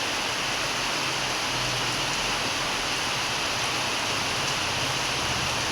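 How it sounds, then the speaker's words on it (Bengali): Heavy rain pours down in a constant, dense hiss that stays loud and unbroken throughout, with no voices. "খুব বৃষ্টি হচ্ছে"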